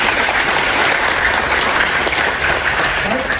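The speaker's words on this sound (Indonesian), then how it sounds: "Oke, tepuk tangan dong buat kita semua." Dense, steady audience applause at an Indonesian talk on discipline and responsibility, loud and continuous from start to end, a large crowd clapping together with no break.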